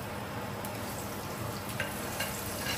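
Chopped onion and carom seeds fry in a hot pan with a steady, even sizzle that holds up close throughout, with no voices.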